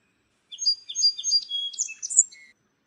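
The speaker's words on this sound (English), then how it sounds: "SPARROW, sparrow." A sparrow chirps in a quick run of high, thin tweets, about a dozen short notes in an uneven rhythm, clear and fairly close against silence.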